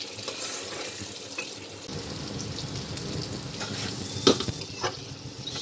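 Chopped onion frying in hot oil in a pan, a continuous crackling sizzle with scraping stirs and a few sharp spatula clinks, no voices.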